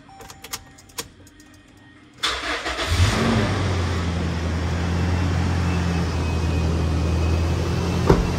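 A car that has stood unused for about a week clicks and rattles a few times, then the engine cranks, catches and settles into a loud, steady running drone close by.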